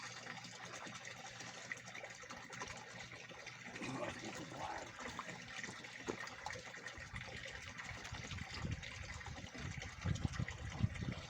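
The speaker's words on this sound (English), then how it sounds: "you got the water running through it to clean it out" Water running through a newly assembled koi pond waterfall filter, a faint continuous splash and trickle with some louder gushing and handling noise near the end.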